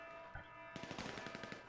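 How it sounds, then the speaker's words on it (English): Rapid automatic gunfire in GTA V Online during a Humane Labs heist raid: a quick, evenly spaced burst of shots that starts suddenly after a faint lead-in, heard fairly quietly over the game's background hum. "I'm being directly shot at."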